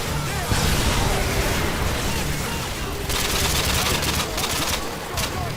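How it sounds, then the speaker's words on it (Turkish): Call of Duty MW2 combat erupts in loud, continuous gunfire mixed with bursts and blasts, filling the whole stretch while a person talks over it. "Silahın sesi güzel ha"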